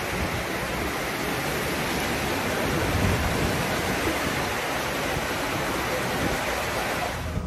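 A rain shower pours at the Pasar Mardika market in Ambon, Maluku, a dense, steady hiss of falling water that holds at an even level throughout with no voices.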